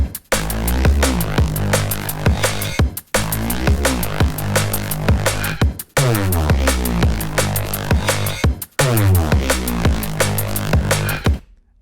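A synthesized bass line in the style of Adam Sandler plays loud and punchy in four repeating bars of rhythmic plucked notes, each bar cut off by a brief gap of silence.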